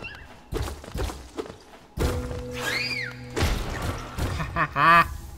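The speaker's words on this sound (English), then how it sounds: "I have forgotten the sounds of explodey birds" Game sound effects from Hollow Knight: exploding birds make a series of heavy thumps and bursts, with warbling tones and short chirpy squeals between them, loud and close.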